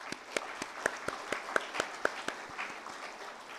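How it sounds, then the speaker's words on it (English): Sparse, slow clapping at a graduation ceremony: a steady run of separate hand claps from a few people rather than a full crowd, fading out toward the end. "let's dedicate this achievement to all proud parents, Silver Mountain family, friends, and ourselves with the biggest round of applause"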